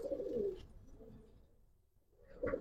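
Pigeons coo in low, soft murmurs, one call at the start and another at the end with a quiet gap between; faint and close, no talking.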